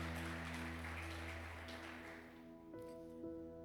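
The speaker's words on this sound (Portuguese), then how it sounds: "Aplauda o Senhor porque Ele é bom." Church congregation applauding during a service, a fairly quiet, continuous wash of clapping that thins toward the end, with a steady hum beneath it.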